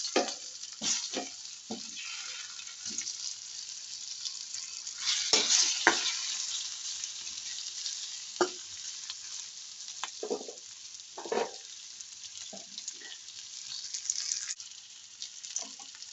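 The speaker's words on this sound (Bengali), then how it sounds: "এই যে আলুর পিসগুলো একটু ভেজে নিচ্ছি।" Potato pieces fry in hot spiced oil, a steady close sizzle broken by occasional stirring clinks and scrapes, with no talking.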